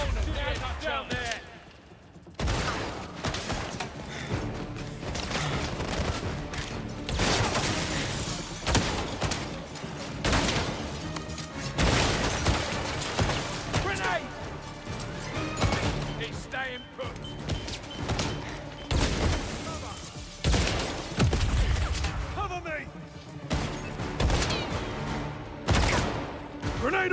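Shooting in a 007 video game, with repeated bursts and single gunshots popping throughout alongside excited talking from players.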